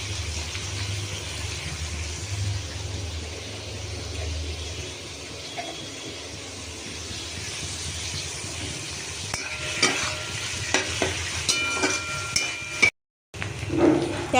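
Homemade chowmein being stir-fried with capsicum in a pan: a soft continuous sizzle, with a spatula scraping and clattering against the metal more often toward the end, after a short gap.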